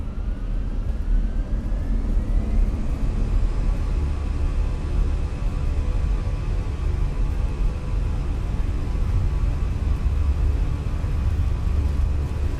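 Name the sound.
airliner taking off in video game Microsoft Flight Simulator 2024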